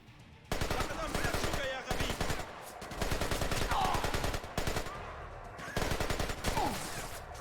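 Sustained automatic gunfire from a stealth-action shooter, Splinter Cell Conviction, rattling in rapid bursts across most of the stretch with brief gaps, loud and close, with a voice faintly mixed underneath.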